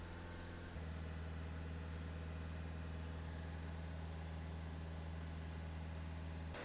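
2017 Renault Trafic van engine with a blocked DPF, held at a steady 2500 RPM, a constant close droning hum that steps up slightly in level early on and then stays even.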